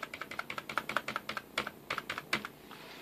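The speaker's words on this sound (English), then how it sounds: "Now I'm going to move it out 13 more strokes of the right arrow key" Repeated right arrow key presses on a computer keyboard while nudging a part in 3D design software, a steady run of crisp, close clicks, some quicker and some spaced, with no talking.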